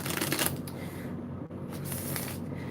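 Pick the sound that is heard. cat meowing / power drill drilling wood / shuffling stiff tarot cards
shuffling stiff tarot cards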